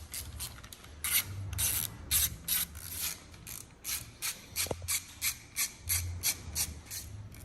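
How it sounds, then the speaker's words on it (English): Screws being backed out of a motorcycle handlebar switch housing: close, repeated ratcheting clicks and scraping metal rubs in a steady pulsing rhythm with no talking. "you're going to start by removing the upper and lower switch housing screws"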